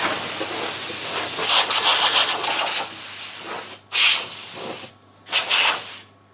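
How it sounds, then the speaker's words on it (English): Compressed air hisses loudly and continuously as it blows off a part in a workshop, then breaks into a couple of shorter blasts with pauses, close and harsh. "I'll put a little air on it and blow it off"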